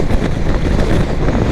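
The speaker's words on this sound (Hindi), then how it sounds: "सही हवा चल रही है भाई" Loud, continuous wind roars and buffets across the microphone while riding a Harley Davidson X440 motorcycle along a city highway, a close rushing rumble with no gaps.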